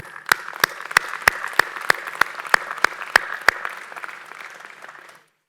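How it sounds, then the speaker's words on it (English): Commencement audience applauding at a spring graduation ceremony, a dense steady wash of clapping with sharp periodic accents, sustained for about five seconds before fading out. "well-earned, and deserved round of applause."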